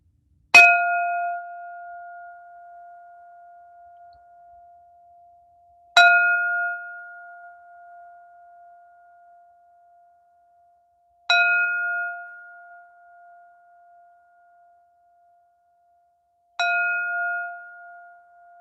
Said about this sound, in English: Fourth bell.